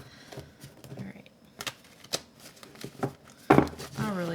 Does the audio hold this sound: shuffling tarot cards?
yes